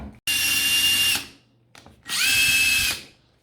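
Metabo impact driver with freshly replaced brushes runs in two loud, steady whirring bursts of about a second each, separated by a brief pause with a small clatter.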